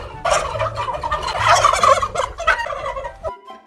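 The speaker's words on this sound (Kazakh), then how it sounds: "Күрке тауық гүлі гүлі гүлі гүлі гүлі дейді" A cartoon-style turkey sound effect: a loud, rapid, warbling gobble that runs for about three seconds in quick pulsing bursts, close and alone, then cuts off abruptly.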